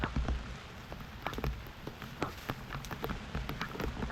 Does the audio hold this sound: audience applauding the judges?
no